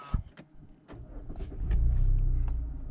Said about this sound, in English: So we'll just start the car up.